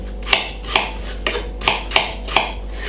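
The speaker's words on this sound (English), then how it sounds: "Just cut it up very small, not too thick and chunky" Knife chopping fresh pineapple into small pieces on a cutting board, six crisp, evenly spaced cuts about half a second apart over a low hum, with no talking.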